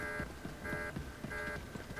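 An alarm sounds in Star Wars: The Old Republic, a steady electronic tone that cuts in and out in repeating bursts of about half a second, layered over a low rumbling game ambience at moderate, somewhat distant volume.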